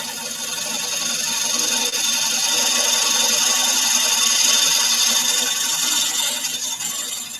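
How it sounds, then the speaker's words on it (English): A gouge carves the base of a gum-wood bowl spinning on a lathe, giving a loud, continuous, even hiss and whir of cutting that holds steady throughout with no talk. "And just watch out you don't hit the rim with the gouge."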